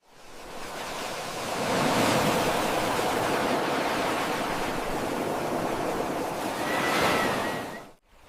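Ocean waves roll and wash in a broad, steady surf with gusty, wind-like hiss. One wave swells and breaks loudly near the end before the sound cuts off.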